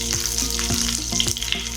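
Curry leaves and two green chilies fry in a little oil with mustard seeds, giving a steady close sizzle broken by several soft crackling pops, with no talking.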